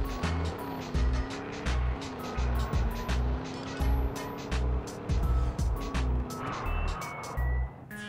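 A car engine in a video game revs in short repeated bursts over steady background hum, with brief sharp beeping tones on top; a person talks intermittently.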